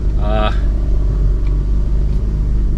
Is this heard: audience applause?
no